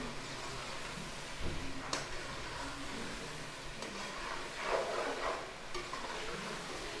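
Aloo pulao fries in a pot as crushed red chilli goes in, a steady close sizzle with occasional scraping stirs and a brief clatter.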